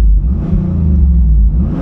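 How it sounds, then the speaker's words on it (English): A 1996 Pontiac Firebird Trans Am idles at a wrecking yard, its engine a loud, steady low rumble close by with no talk over it. "The motor sounds good."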